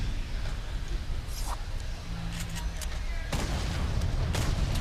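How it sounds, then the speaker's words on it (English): In Fortnite, a grenade launcher fires and its explosions land in a series of distant, muffled booms and bursts, with a heavier blast near the end over a steady game background. "Oh, that player with the nade launcher."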